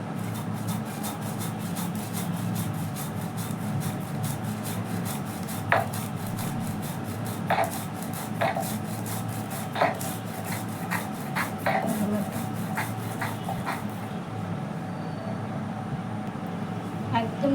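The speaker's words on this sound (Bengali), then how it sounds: "কালিজিরাটা হলে বেটে নিতে হবে" Black cumin is ground into a paste, giving a continuous rough rubbing and grinding sound close up, with repeated sharp scraping strokes in a steady rhythm.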